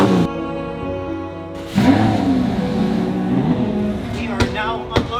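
White Lamborghini Miura SV engine revving as the car is unloaded from a trailer, a loud, close rising mechanical rev with harmonic whine, followed by sustained engine roar and a couple of sharp knocks.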